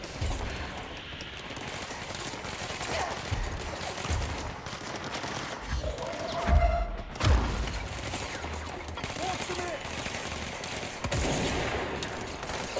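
Gunfire in the video game Control: scattered bursts of shots crackle over a constant noisy battle backdrop, with a louder cluster near the middle and another toward the end, no talking.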